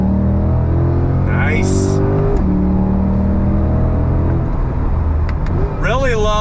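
A C8 Corvette Stingray engine revs on throttle, rising and shifting in pitch with gear changes, loud and near from inside the car, with a short spoken remark over it.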